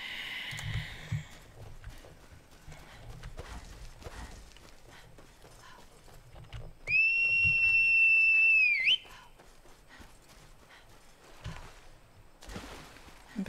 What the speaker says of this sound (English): Meant to make whistle for my horse.